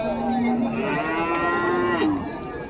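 Cattle lowing at a livestock market in Vaniyambadi, one long, loud, nearby moo that rises and holds before falling away, with a softer animal call and market noise behind.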